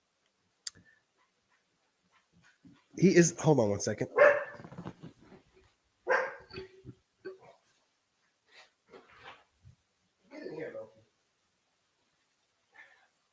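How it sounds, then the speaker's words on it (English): A dog barks a few times in the distance while someone speaks briefly, with quiet gaps between sounds. "Sorry, that was my dog."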